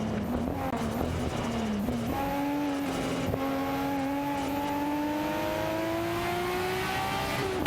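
Racing car engines in an AI-driven racing game, a Ferrari 288 GTO battling a Toyota Celica, whine loudly and steadily, their pitch climbing as they accelerate, with a second engine joining partway through; no talking.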